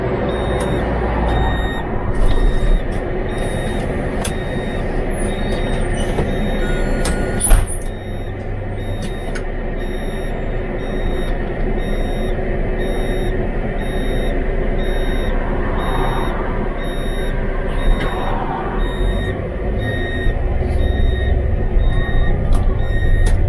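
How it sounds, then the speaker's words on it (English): Riding aboard a bus on a rough road: a constant loud engine drone and rumble runs throughout, with a sharp rattle or bang partway through and occasional creaks and beeps. "In this case it's a bus."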